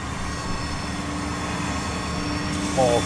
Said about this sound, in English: And here comes the train to his block.